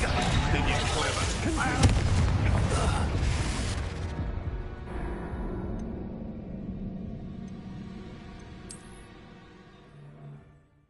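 A Confringo spell blast in the Hogwarts Legacy video game erupts as a loud, dense explosive roar that gradually fades into a long ringing tail over several seconds.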